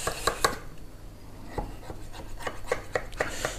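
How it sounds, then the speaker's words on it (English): Knife trimming excess pastry off the edge of a pie dish for a blackberry and apple pie, a series of short scraping cuts in an uneven rhythm, close and crisp, with no talking. "And now I need to use the knife as before and just cut off the excess."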